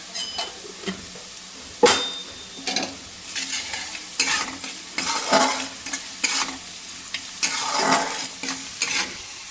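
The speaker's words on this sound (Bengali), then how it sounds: "পেঁয়াজটা একটু ব্রাউন কালার হলে একটু চিনি অল্প করে দিলাম" Onions browning in hot oil with a little sugar, sizzling steadily while a spoon stirs and scrapes the pan in irregular bursts, with one sharp clank of utensil against metal; close and moderately loud, no voices.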